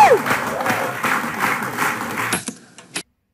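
An audience claps the I'm All In clap at a live Zildjian drum event with Stanton Moore: a dense, sustained burst of applause and cheering that cuts off sharply, followed by a few scattered final claps.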